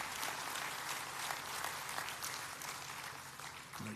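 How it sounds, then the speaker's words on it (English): Quiet, distant applause for Davies at a shipyard groundbreaking ceremony, a sustained patter of many hands clapping evenly throughout without any voices over it. "Now, y'all don't clap so long"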